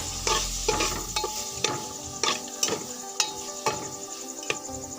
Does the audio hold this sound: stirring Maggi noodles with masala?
yes